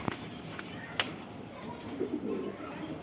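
Pakistani Giribaz pigeons held in cages, with soft low cooing and a few sharp taps and rustles in a quiet room.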